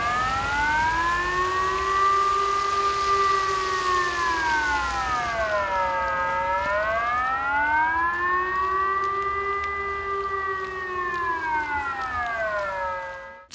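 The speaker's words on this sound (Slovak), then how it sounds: "V stredu 20. februára sa spustili sirény v meste Handlová." Civil defense warning sirens sound during a test in the town of Handlová, a loud continuous wail that rises and falls in slow sweeps across the whole stretch, with no voices.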